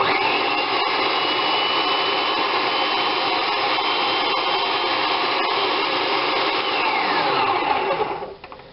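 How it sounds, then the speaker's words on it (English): A blender purees liver for pâté with a loud, steady whirring drone that holds for several seconds, then winds down abruptly at the end. "Now we puree."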